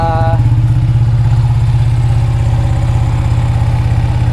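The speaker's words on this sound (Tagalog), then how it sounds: "So on natin yung motor." An Uma M9 Sniper 155 motorcycle engine with a stock engine on a tuning stand runs at a steady, loud, close idle with an even low throb, as a brief higher whine fades in the first moments.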